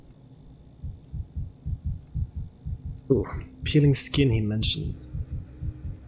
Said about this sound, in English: Heartbeat too fast.